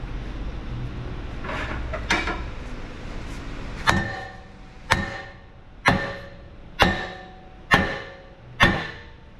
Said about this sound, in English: Now we can beat the rotor off and get the new one in position here